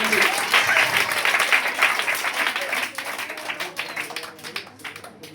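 Children clapping at a school puppet show, dense, lively applause from a group that gradually thins into scattered, uneven claps with some voices underneath.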